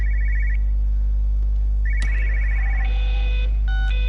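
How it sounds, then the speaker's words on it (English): A telephone ringing inside a house in the video game Everybody's Gone to the Rapture: repeated trilling electronic rings over a constant low hum, with other tonal game sounds layered in. "think I found the house with the ringing phone"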